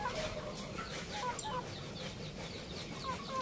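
Indio Gigante chickens cluck softly and intermittently in a noisy farmyard, with scattered bird calls in the background.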